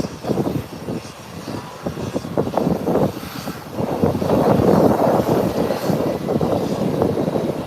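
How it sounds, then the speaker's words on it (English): An American Airlines airliner taxiing at Howard Hamilton International Airport rumbles with a steady engine roar that swells midway, mixed with gusty wind buffeting the microphone. "So one American airline is taxiing in"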